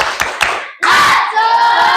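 An Indonesian classroom performs the 'tepuk semangat' routine: two quick group claps, then a loud burst of children shouting together, close and energetic, with voices sustaining to the end.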